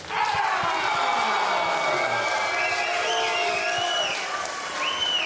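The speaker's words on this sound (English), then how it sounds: "Your applause is for Soufyan Aarab!" A large crowd at a professional MMA event cheers and applauds a fighter's introduction before a heavyweight title fight, loud continuous roar with whistles and shouts rising over the clapping.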